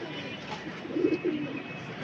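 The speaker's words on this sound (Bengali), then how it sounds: "একটা জোড়া কবুতর" A pair of racer pigeons, a male and a female, coo softly in a low, brief burst partway through against quiet background hiss.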